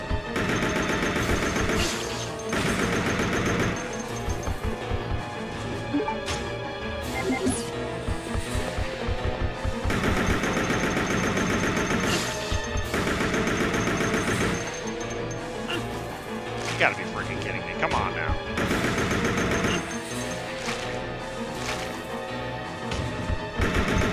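Gunfire in Resident Evil: Code Veronica X, with dense bursts of loud shots recurring in waves over a continuous game soundtrack, while a player talks over it.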